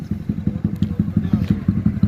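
Motorcycle engine running close by, putting out a rapid, even thumping pulse of low exhaust beats with a slight rattle on top, steady for the whole moment and not covered by any voices.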